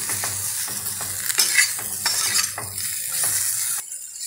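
Raw banana bhujiya sizzles in a pan while a spoon stirs it in regular strokes, the frying hiss steady and close, scraping taps repeating about every half second.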